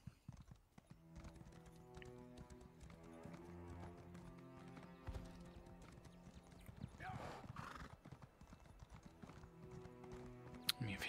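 Horse hooves clip-clop in the video game Elder Scrolls Online, a quick repeating trot with a whinny, heard under game music and someone speaking.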